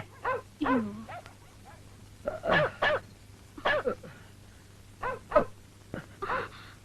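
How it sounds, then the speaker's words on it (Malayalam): Several short dog barks and yips come in bursts with pauses between them, fairly close, with a low steady hum underneath. "ഭാരതി, എന്നാ നീ നായ്ക്കളെ വാങ്ങിയത്?"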